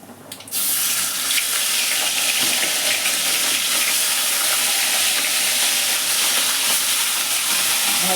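Bhetki fish bones hiss steadily in mustard oil after a quiet start. The dense sizzle stays loud and close for the rest of the frying.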